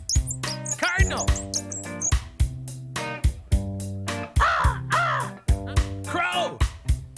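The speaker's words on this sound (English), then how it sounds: "Crow." A crow caws a few times, the harsh rasping calls landing over loud, choppy rhythmic music with stuttering instrumental bursts.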